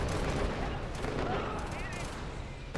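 Sniper gunfire in a Command and Conquer Generals 2v2 match, a dense crackle of battle noise with sharp shots running throughout.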